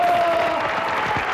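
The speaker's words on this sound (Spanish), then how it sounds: "Un aplauso a Alejandra Ábalos." Studio audience applause on a Mexican television talk show, a loud, close burst of many hands clapping with a few voices and faint cheers mixed in.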